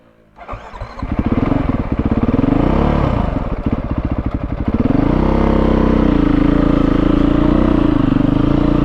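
A hot 2022 Beta 430 RR-S dirt bike engine sputters and cranks, catches after a few seconds, then settles into a loud, steady idle close by.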